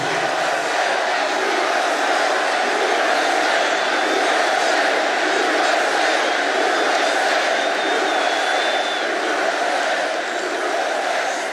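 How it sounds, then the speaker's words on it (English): Huge crowd at a Trump rally in Allentown, Pennsylvania, roaring and cheering continuously, a dense, loud, sustained wall of voices with whistles riding on top. "What a crowd this is."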